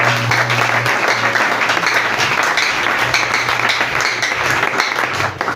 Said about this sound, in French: Acclame d'abord très fort là.